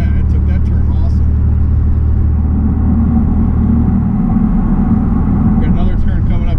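A 2002 Pontiac Firebird V6 with a five-speed manual takes a sharp turn. There is a loud, steady low engine and road drone from inside the cabin, and a voice talks over it.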